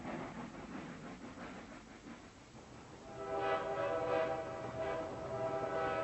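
A train rumbling along, with a horn sounding out in the second half over the steady rolling noise, moderately loud and somewhat distant.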